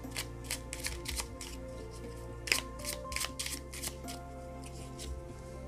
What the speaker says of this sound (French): Je vais prendre des petites cartes ici.